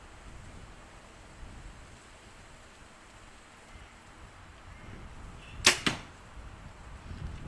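A Bear Alaskan compound bow fires an arrow in one sharp snap followed by a brief second thump, standing out clearly against faint outdoor background hiss.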